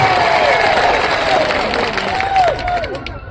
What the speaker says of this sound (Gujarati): આપણે એમને જોરદાર તાળીઓના ગણગણાટથી એમનું સ્વાગત કરી રહ્યા છીએ